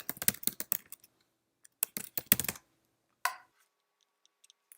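Typing on a computer keyboard into an asset store search, with a quick burst of key clicks, a pause, a second burst and a single louder tap, all close and clear with no voices.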